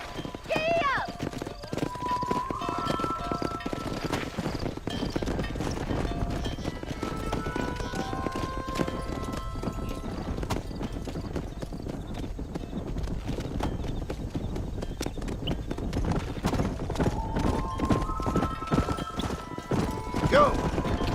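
A horse gallops in Red Dead Redemption on Xbox 360, with steady clip-clopping hooves and occasional whinnies running throughout under a rider's shouted commands and game music.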